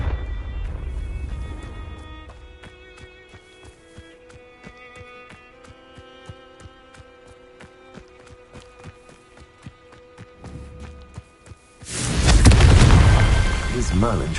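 A Confringo blasting spell from Hogwarts Legacy erupts near the end as a loud, broad explosive burst, following a stretch of quieter game sounds with small clicking hits.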